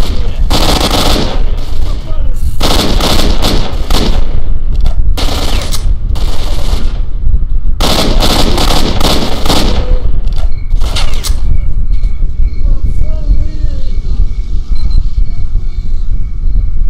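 Rifle fire in the game STALKER: Shadow of Chernobyl, loud rapid bursts of automatic shots in several volleys over about eleven seconds, followed by quieter ambient hum.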